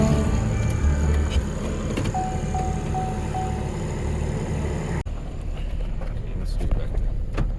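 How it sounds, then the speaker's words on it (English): Old farm truck engine running while hitched to pull a broken-down tractor on a pasture, a steady low rumble throughout with people talking over it. "see if the old truck here will pull it"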